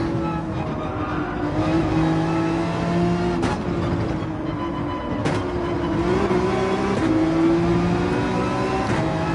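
Race car engines in Gran Turismo 7 on the Dragon Trail circuit, a pack of cars droning loudly and steadily together, with rising and falling revs as they shift gears and pass close by.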